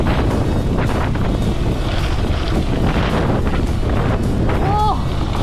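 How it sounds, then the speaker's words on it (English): Heavy wind on a mountain bike downhill course near Cape Town blasts across the microphone in a constant low roar, with brief excited shouting buried in the gusts. "It's too windy!"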